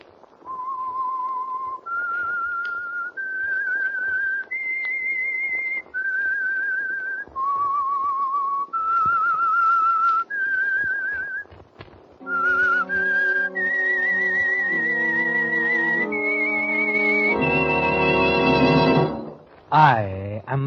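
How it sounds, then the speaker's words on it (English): A radio drama's theme tune is whistled as a slow, eerie melody of sustained notes, clear and prominent, then joined by orchestral music that swells to a close. "That whistle is your signal, the Whistler."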